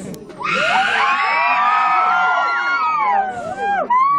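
A dense concert crowd of girls screams loudly at a live Mexican banda show in Cuernavaca, a sustained wall of high shrieks and shouts that dips briefly near the end.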